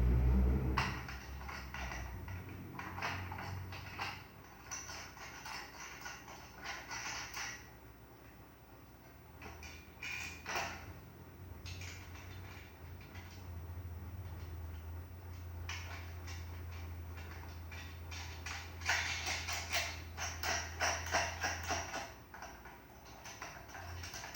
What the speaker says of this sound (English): go ahead and just use your 9/16 wrench and go ahead and tighten that up